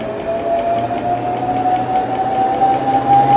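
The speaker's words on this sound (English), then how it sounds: "we start the tunnel and then increase the airspeed slowly" A wind tunnel motor runs up from a start, a steady low hum with a tonal whine rising gradually in pitch as the airspeed is slowly increased, close and continuous.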